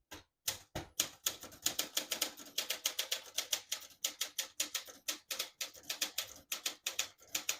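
A 1970s Olympia Traveller portable typewriter types out a sentence, its keys striking in quick, uneven bursts of sharp clacks at close range, with brief pauses between words.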